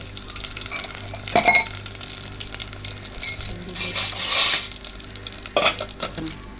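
Mustard seeds, cumin and asafoetida sizzle and crackle in hot oil for a raw mango curry. The hiss swells and fades in bursts, and the spoon scrapes and clinks in the pan.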